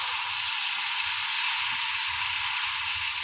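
Vegetables for a mixed vegetarian curry, with salt and a little broth added, sizzle steadily in a hot pan as a loud, even, continuous hiss with no pauses.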